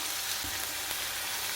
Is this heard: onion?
yes